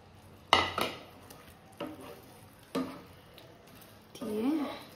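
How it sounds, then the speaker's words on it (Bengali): Chicken pieces being added to a pan of sauce, with a few sharp clatters and scrapes of utensils against the pan, spaced apart, then a brief sizzle-like swell near the end; no speech. "এবার চিকেনগুলোকে দিয়ে দেব"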